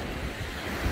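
Waves breaking on a beach, a dense roaring surf close to the microphone with wind buffeting throughout, continuous and loud over one second.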